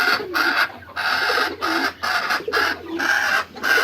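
A flock of healthy chickens in an open-air coop clucks and chatters in a dense, rhythmic chorus, loud and close with no speech.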